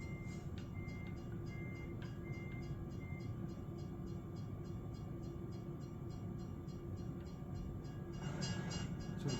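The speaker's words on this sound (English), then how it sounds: "We're gonna get a train." Rumbling train passing in American Truck Simulator, heard at night by a truck waiting at a rail crossing; a steady low roar with a repeating crossing bell, growing louder toward the end.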